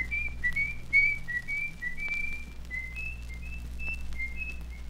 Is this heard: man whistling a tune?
yes